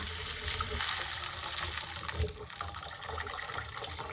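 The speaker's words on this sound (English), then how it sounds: "Add hot water." Hot water pours steadily into a pot of stir-fried eggs, a continuous close gush that eases off slightly partway through.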